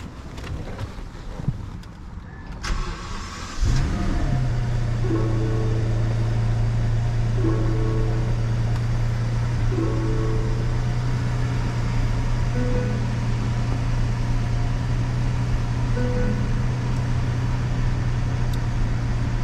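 A Rolls-Royce wedding car starts after a few seconds of wind-buffeted quiet. Its engine then holds a steady, smooth hum as it pulls away, with light wind noise on the microphone and no speech.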